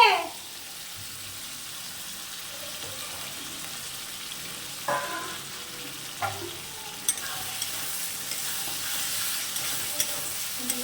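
Fried potatoes and prawns are tossed into hot oil for a banana-flower curry: a sharp burst at the start settles into a steady sizzle, with occasional clinks and stirring scrapes, close by and without talk.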